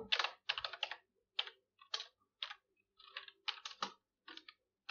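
Crisp bursts of key clicks come from a computer keyboard as someone types words into a document, with short pauses between bursts; close and clear, with no talking.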